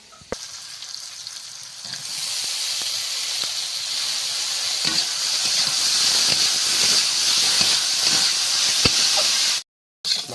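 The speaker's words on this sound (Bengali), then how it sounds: "সরু সরু করে আলু ভাজা" Thin strips of potato fry in hot oil in a Sundarban home kitchen, a loud steady sizzle and hiss with occasional stirring clicks, rising after the potatoes go in and continuing without talk.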